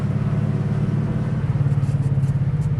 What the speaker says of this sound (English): this particular car has a slightly louder exhaust than factory